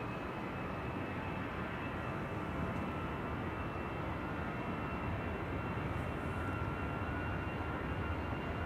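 A KLM airliner, a Boeing 787-10, roars steadily during takeoff on runway 09 at Amsterdam Schiphol Airport, a dense continuous engine rumble heard from a distance without voices.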